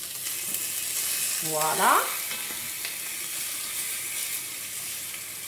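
Rabbit pieces frying in a pan give a steady sizzle throughout, with a brief louder burst of spitting as they are turned over partway through; a single short word is spoken.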